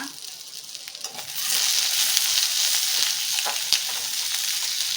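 Cinnamon pieces and cloves frying in hot oil in a pan for mutton curry, a steady close sizzle that swells louder after the first second and holds, with a few faint clicks and no talking.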